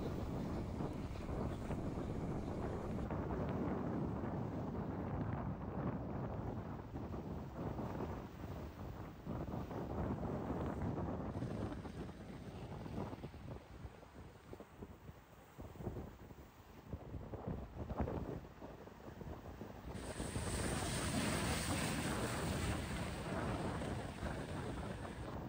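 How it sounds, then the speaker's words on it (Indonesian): Strong sea wind batters the microphone aboard a fishing trawler off Kuala Terengganu, a loud, continuous roaring rumble with gusty surges and no voices. "hari ni memang kuat lah angin, gelombang angin ada belaka"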